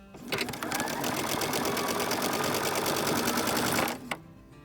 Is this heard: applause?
no